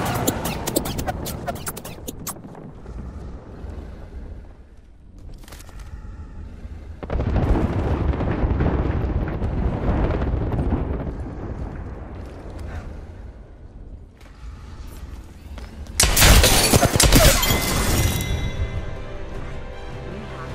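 Frag grenade blasts in the battle royale shooter Apex Legends, with heavy booming bursts rolling over busy in-game combat noise, the loudest blast landing near the end, while voices call out over the action.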